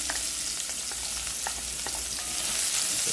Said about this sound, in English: I have my onions diced, so we're just gonna throw that. Let those to cook a little bit.